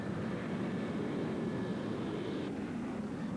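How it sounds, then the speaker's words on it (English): A Lockheed C-141 Starlifter at the 1983 Greenham Common air show gives off a steady, moderately distant jet roar with a broad whooshing hiss and no voices. "which is the Lockheed C-141 Starlifter"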